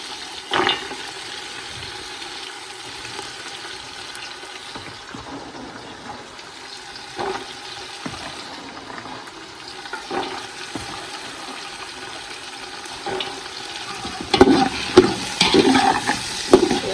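Peas and potato frying in a pan with oil for matar pulao, a soft steady sizzle with occasional scraping stirs and clinks, louder near the end.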